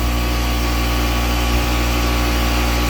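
An air compressor runs steadily nearby, a loud continuous motor drone with a low hum and no breaks, while being hooked up to fill a pump sprayer through a Schrader valve fitting.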